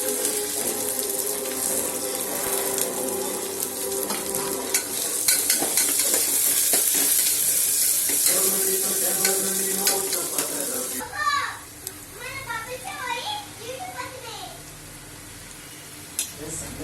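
Onions frying in hot oil with green chillies for a mutton curry, a bright sizzle with stirring clatter for about eleven seconds, then fading to quieter crackles with running water and a voice talking.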